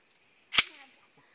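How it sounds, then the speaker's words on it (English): A single sharp gunshot rings out during an outdoor bird hunt, loud and fairly close, then fades in a short echoing tail with no voices. "Who shot that one?"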